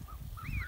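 Goslings and geese on a farmyard give soft, faint honks, several short calls with a rising squeak near the end, heard on their own without talk.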